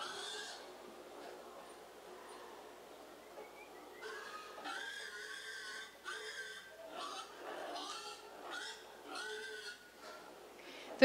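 Pigs on a farm grunt, oink and squeal in repeated bursts that grow louder and busier partway through, heard at a moderate distance against a quiet background.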